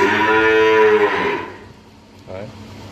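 A pair of cattle at a Vietnamese cattle trader's yard: one gives a loud, close, drawn-out moo lasting over a second, followed by a shorter, fainter lowing call.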